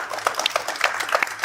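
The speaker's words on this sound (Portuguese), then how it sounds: "Por que vocês não dão uma bela salva de palmas para Charlie Kirk?" An audience claps in a short burst of applause for Charlie Kirk, with dense, overlapping hand claps that stay moderately loud and even for a brief moment.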